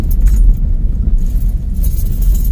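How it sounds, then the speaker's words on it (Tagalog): A car reverses into a parking spot, heard as a loud, close low rumble of the engine and tires with faint jingling over it. "doon na paatras ang parking ni Kikoy"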